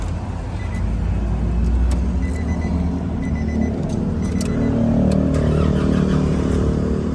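A Nissan NP300 pickup, 2023 model, cranks and its engine starts and settles into a steady, loud idle rumble close by, with a light jangle of keys near the start.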